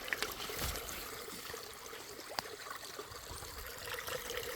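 Spring water trickles steadily out of the ground beside a lake in Algonquin Park, a soft continuous dribble close by with faint outdoor ambience and no voices.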